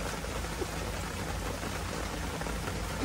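Rain falling at a seaside campsite at Malagundi Point in Lobo, Batangas, a steady dense patter with no breaks, close and fairly loud.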